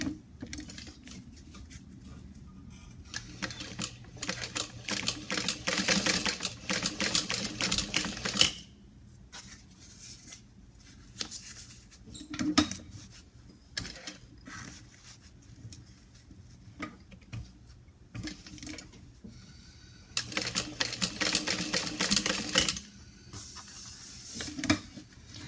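A sewing machine top stitching fabric pieces runs in several bursts of rapid ticking stitches, broken by pauses and quiet handling clatter, close and fairly loud with no talk.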